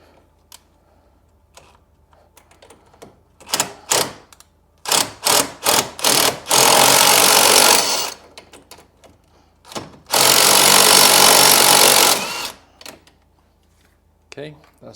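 A 3/4 inch socket on a ratchet or impact tool breaks loose a golf cart tie rod bolt, heard as bursts of loud mechanical chatter and clicking in two long runs between shorter clicks.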